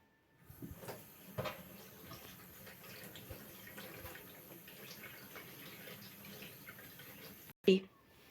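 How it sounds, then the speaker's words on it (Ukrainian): Tap water runs steadily at low volume as fallen leaves are rinsed under it, a soft continuous splashing with faint handling bumps, followed by a brief louder knock near the end. "Тепер треба листя промити під поточною водою."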